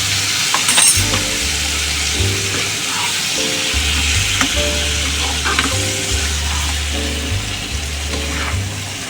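Crab and potato curry fries loudly in a pan as the rest of the water goes in, a dense close hissing sizzle with stirring scrapes over a steady low droning hum, no talking.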